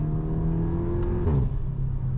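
A performance car's engine pulls hard under acceleration while driving, a steady close growl with rising harmonics and a brief surge near the middle, no talk over it.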